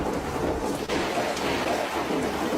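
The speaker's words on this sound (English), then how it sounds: "they had a very, very nasty hurricane, hailstorm, windstorm from hell, lightning storm" A violent thunderstorm with steady heavy rain hissing throughout and low rolling thunder underneath, a continuous dense roar with no voices.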